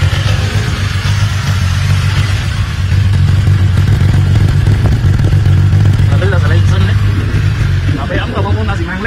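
A silver 2019 BMW S1000RR motorcycle engine idles with a steady, loud low hum and light mechanical clatter, running continuously throughout while someone talks faintly near the end.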